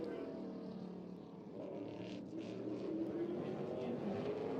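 A NASCAR-style modified race car runs a qualifying lap at Tri-County Speedway on the SMART Modified Tour. Its engine gives a faint, distant roar that swells slightly toward the end against steady track ambience.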